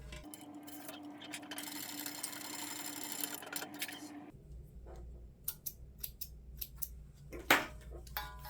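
A sewing machine stitches a 1/4 inch seam on a fabric handbag, running steadily for about four seconds, then stopping, followed by quieter handling clicks and a brief rustle of fabric.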